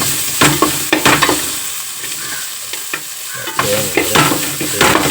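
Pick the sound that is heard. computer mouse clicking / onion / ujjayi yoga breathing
onion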